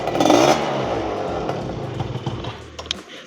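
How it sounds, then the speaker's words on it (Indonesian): A Yamaha Mio scooter fitted with a two-stroke engine revs loudly up close, a buzzing burst that peaks early and then settles into a rough, fluttering idle with some rattling. "kalau diputer gasnya, ban belakangnya ya muter, karena ini mesinnya sih masih Mio gitu loh"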